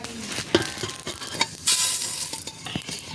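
Whole spices frying in hot oil in a pan for sour-spicy-sweet mango pickle, a soft crackling sizzle punctuated by several sharp stirring scrapes and clinks, close and alone without talk.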